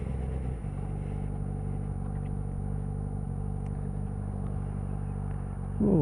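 A leader bike's motorcycle engine rumbles steadily while riding in gear, a close, continuous low drone with a rising swell near the end and no talking.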